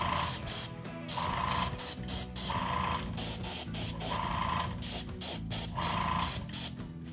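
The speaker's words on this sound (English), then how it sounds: "I'll just use that in my airbrush and finish up the painting" An airbrush sprays dark Tamiya gunmetal paint onto a costume prop in short, even bursts of airy hiss separated by brief pauses, with a faint compressor hum underneath.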